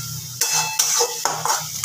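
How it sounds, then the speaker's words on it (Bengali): Masala with a little sugar fried and stirred in a pan, four or five distinct scraping strokes of a spoon against metal over a soft sizzle, close and fairly loud. "এবার মশলাটাকে খুব ভালো করে আমি কষিয়ে নেব।"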